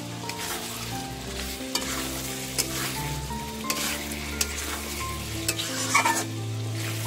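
Potatoes sizzle in hot oil with Kashmiri chillies. The frying is loud and steady, with frequent stirring and scraping, and there is no talk.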